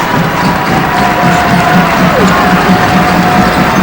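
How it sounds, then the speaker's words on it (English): Loud, rowdy crowd at a 2007 college basketball game between Bradley and Evansville, a dense roar of cheering and shouting with a commentator talking over it. "Not a huge crowd, but they're loud and rowdy now."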